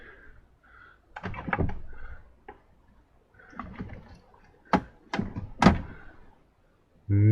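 Wooden drawers in a workshop slide open and shut with several knocks and thuds while someone rummages through them, ending in a sharp bump; close and fairly loud.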